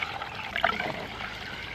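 Used vinegar from a motorcycle restoration job is poured into a jug, giving a steady close trickle and splash of liquid throughout.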